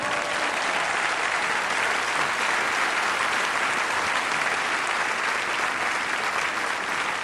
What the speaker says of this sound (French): c'est gentil d'applaudir